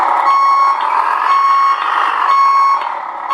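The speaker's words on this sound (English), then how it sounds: "the backing beeper is a little loud" A Beier SFR-1 sound module in a Tamiya 1/14 Globe Liner RC truck plays its reversing beeper, a loud, close, repeating electronic tone with brief gaps between beeps.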